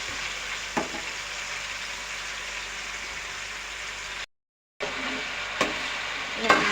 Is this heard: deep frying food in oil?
yes